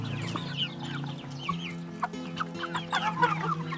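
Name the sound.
chickens clucking on a farm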